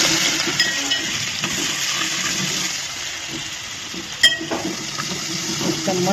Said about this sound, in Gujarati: લસણ લીલા મરચાંનો વઘાર કરીશું